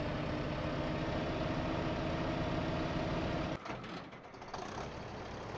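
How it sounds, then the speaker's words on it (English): A small tractor engine in the Farming Simulator video game holds a steady, dense droning hum, then cuts off abruptly partway through and leaves a quieter mechanical residue. "This tractor's so small. So yeah, this thing, unique sound as well."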